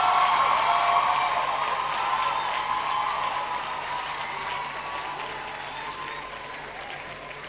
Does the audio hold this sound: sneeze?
no